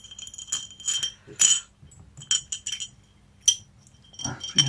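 A gents Damascus steel ring with oxidized silver inlays swirled in a glass of oxidizing solution, giving a series of light, bright glassy clinks and taps in short bursts, close and alone.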